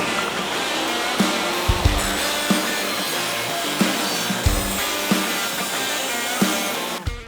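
A table saw rips 16-inch wooden fence pickets down to 4.5 inches in a workshop planter build. A loud, steady broadband roar runs throughout, with soft knocks recurring about every second, no talking, and a sudden change just before the end.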